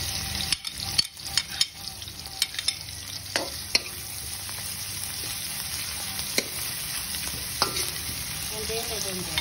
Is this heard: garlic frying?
yes